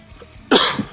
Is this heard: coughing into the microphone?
yes